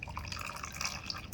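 Water running from the outlet of a machine, a light, steady trickle and drip of liquid heard close and faint, with no talking.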